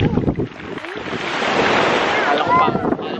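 Strong sea waves surge and wash against a rocky shore on a beach, a loud, steady roar of surf mixed with wind buffeting, with brief voices near the start.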